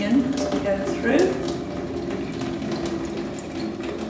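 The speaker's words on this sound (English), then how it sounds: "So I'm just going to drain the water off." Water is poured off a pot of boiled potatoes and onion, giving a continuous close splashing gush with a few gurgles as it drains away.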